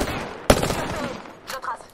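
In Apex Legends, incoming fire opens with a sharp, loud shot burst, then quicker rattling shots trail off, and a second brief volley follows near the end.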